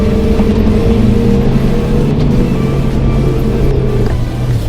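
A Land Rover Defender engine roars steadily and loudly while off-roading at a racing day event, a close, sustained drone with no break and no talk.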